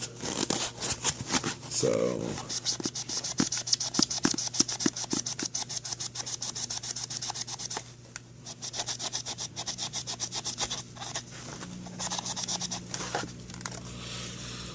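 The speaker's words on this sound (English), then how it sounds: "I was just scrubbing at that with the rag" A rag scrubbing hard at permanent marker on a plastic retro game cartridge: rapid, close back-and-forth rubbing strokes in a steady rasping rhythm, briefly pausing mid-way, with someone talking over parts of it.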